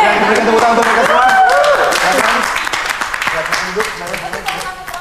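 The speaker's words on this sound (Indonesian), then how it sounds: "Berikan tepuk tangan untuk mereka semua." A studio audience on an Indonesian reality show applauds, a crackling burst of clapping heard first under a loud talking voice, then fading on its own.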